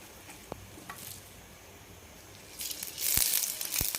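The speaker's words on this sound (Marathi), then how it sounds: "लोखंडी कढईमध्ये आपण तेल टाकलेलं आहे आणि आता कांदा टाकून घेऊ" Sliced onion is dropped into hot oil in an iron wok, a few faint clicks and taps giving way to a rising, crackling sizzle that grows louder near the end.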